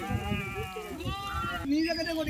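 Sheep bleat repeatedly at a crowded sheep market, several wavering calls overlapping one another close by.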